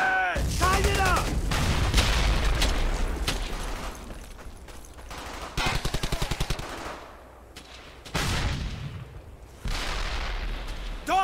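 Dense gunfire in a WWII shooter, Brothers in Arms: Hell's Highway: rapid machine-gun bursts and single rifle shots, with distant booms, crackling nearby, while soldiers shout orders over the shooting.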